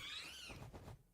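A cartoonish cat meows once in a video game, a drawn-out, slightly falling call that fades out over about a second, alone and fairly close.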